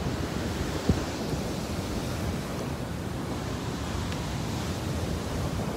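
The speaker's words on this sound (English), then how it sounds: "I love watching the waves come in." Sea waves rolling in on the shore, with a churny sea; a continuous, moderately distant wash of surf mixed with wind buffeting, steady throughout with no voices.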